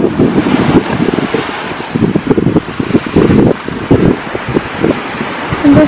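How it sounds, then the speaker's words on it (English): Strong wind outdoors on Santorini, Greece, batters the microphone with a steady, loud roar and gusting low rumble for the whole stretch, with no clear voice over it. "But it's like really windy."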